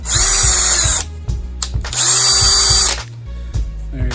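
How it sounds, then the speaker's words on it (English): A power drill spins a Holikme wheel-cleaning brush attachment in two loud, steady, high-pitched whirring bursts of about a second each, separated by brief pauses filled with clicks and handling noise. "Same thing, attach it to your drill."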